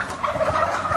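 Turkeys gobble inside a farm barn in a dense, overlapping chorus of warbling calls, loud and near, filling the whole second with no voices over it.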